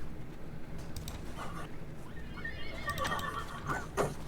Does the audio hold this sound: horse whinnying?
yes